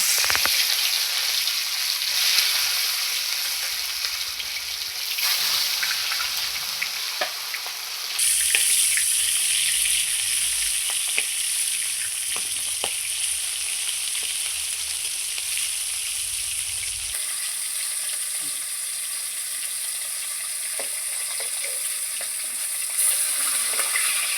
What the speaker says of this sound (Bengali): এবার আমি এক এক করে মাছগুলো ভেজে নেব।